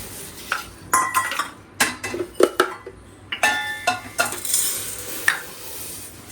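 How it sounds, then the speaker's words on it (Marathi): Coarse sugar tipped into a steel mixer grinder jar already holding fine semolina, giving a run of close clinks and rattles with brief scraping, spoon taps and pourings spread unevenly over several seconds, no talk. "आता याच्यामध्ये साखर टाकणार आहे"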